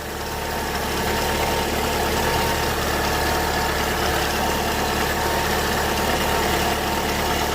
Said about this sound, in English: It's a cold start, so a little bit of noise coming out of the belt.